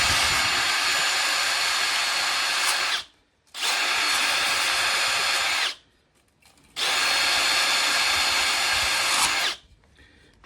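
A power tool roughs up a surface to leave scratchy marks for sealant in a garage utility-room build, making three loud sustained whirring, grinding bursts of about three seconds each, separated by brief pauses, close and with no talking.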